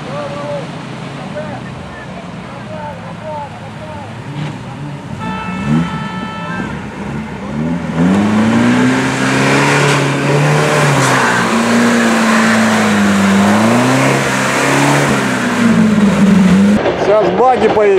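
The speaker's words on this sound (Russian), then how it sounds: "Зеленый УАЗ салатовый едет." A green UAZ off-road vehicle driving in a mud race: a rising, wavering engine drone that strains and revs under continuous outdoor crowd noise and commentary.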